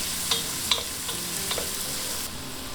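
Roughly chopped onion and garlic with leeks cooking in 80 grams of butter in a pot, a steady soft sizzle with a few light stirring clicks.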